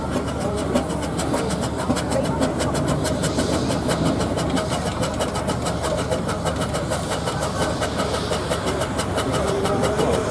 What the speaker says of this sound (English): Well, here we have a road locomotive.